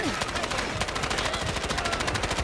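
In the shooter game Delta Force, a Chinese submachine gun fires in rapid sustained automatic bursts, loud and close, with the shots tightly packed across the whole brief stretch.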